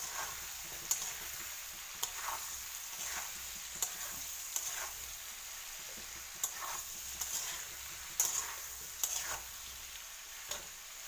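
Turmeric powder is stirred into olive pickle in a pan, with soft scraping strokes and quiet sizzling. The stirring comes as regular light scrapes about once a second over a steady background hiss.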